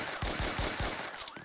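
A tranquilizer gun firing in the Roblox Brookhaven video game, a quick burst of four or five sharp, evenly spaced shots, fairly faint, with no talk.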